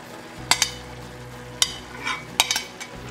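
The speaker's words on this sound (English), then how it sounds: "so now I'm gonna add in my oregano and sugar. Give that a stir." Oregano and sugar being stirred into a pan for spaghetti pie, several sharp spoon scrapes and taps in quick irregular bursts over a low, soft sizzle, close by, with no talking.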